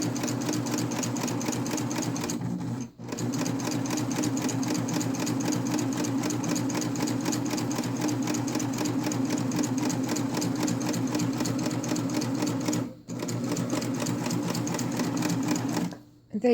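A Babylock Ovation or Evolution sewing machine stitches imitation piping with thick thread at a steady, even, moderate pace. Its continuous mechanical hum carries on with two brief pauses near the middle and end.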